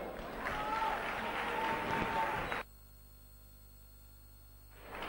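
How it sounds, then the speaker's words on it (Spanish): A school audience at a Salesianos Triana end-of-term playback show applauds in welcome of a student group about to perform a Disney mashup, dense clapping for about two and a half seconds before it cuts to near silence. "démosle una fuerte bienvenida con un aplauso"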